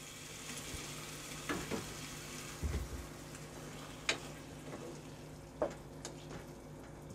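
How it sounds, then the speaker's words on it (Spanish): Picadillo verde frying in a pan as blended sauce is added, giving a steady soft sizzle with scattered clicks and light stirring knocks, fairly quiet with no voices. "Y ahora vamos a agregar la salsa que hemos licuado."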